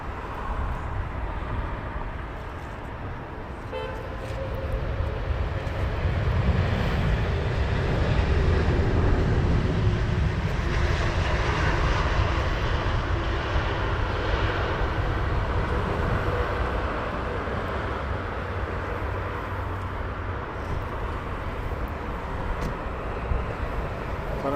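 A jet aircraft on approach to land at Heathrow Airport, its broad engine roar swelling steadily to a peak mid-pass and then easing slightly while still holding on as a continuous distant-to-near rumble.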